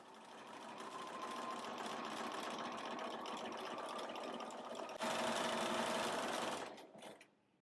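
A sewing machine stitching a ladder stitch with a wing needle runs in a steady, fast mechanical whirr that speeds up briefly near the end before stopping.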